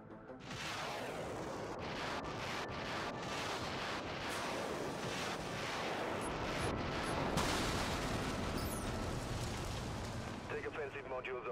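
Ship weapon modules firing at targets in the video game Dreadnought, a dense continuous barrage of booming blasts and rumbling explosions with sharp cracks layered over it.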